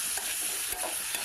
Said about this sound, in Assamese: হালধি আৰু নিমখখিনি মিক্স হোৱাকৈ অলপ সময় ভাজি ল'ম।